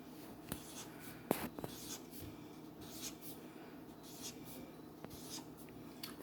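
A pen scratching and tapping on paper while a chemical structure is drawn, quiet short strokes in an irregular rhythm, close and alone.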